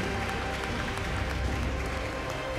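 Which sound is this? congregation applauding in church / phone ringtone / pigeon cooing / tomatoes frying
congregation applauding in church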